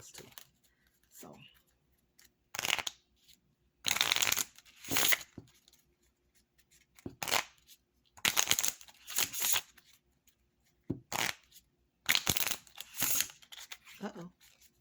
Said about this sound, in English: That way I can cut the cards like I was supposed to.